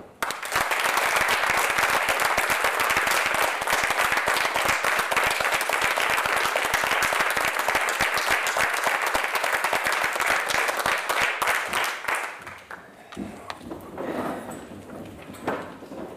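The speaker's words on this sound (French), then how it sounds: "Cela, on les applaudit." A municipal council audience applauds loudly and steadily for about twelve seconds, dense clapping that then fades to scattered claps, chair noises and murmuring in the room.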